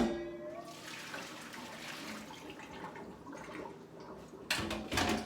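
Cold water used to soak fresh nettles pours out in a continuous splashing rush into a sink, ending with louder sloshing and gurgling bursts.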